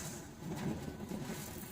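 A rebuilt Westrup FAU 1500 seed cleaner runs in a working shop with a low, rumbling mechanical drone and slight fluctuations, moderately loud, with no speech.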